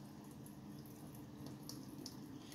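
Water pours out of a plastic container of soaking wheatgrass seeds during rinsing. It makes a quiet, continuous splashing trickle with no voices.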